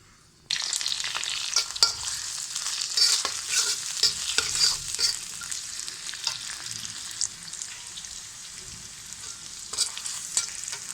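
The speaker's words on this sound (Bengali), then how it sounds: "এখন কড়াই তেল দিয়ে দিয়েছি, এখন দিয়ে দেবো পেঁয়াজ কুচি।" Chopped onions dropped into hot oil in a wok, a sudden loud sizzle that holds steady with frequent stirring scrapes, close and without talk.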